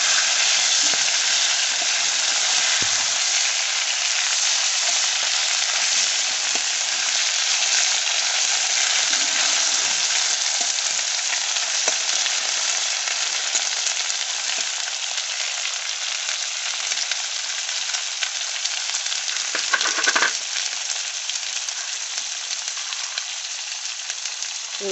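Fish frying in oil with green chillies, tomatoes and ginger paste hisses in a loud, even, unbroken sizzle that holds for the whole stretch, with only faint occasional stirring knocks and no talk.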